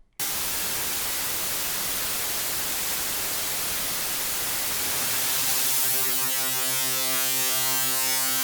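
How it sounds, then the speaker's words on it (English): Broadband white noise, a steady loud hiss that gradually shifts into evenly spaced harmonic bands as a filter changes, with no voices. "as we turn the filter off, we return back to the white noise"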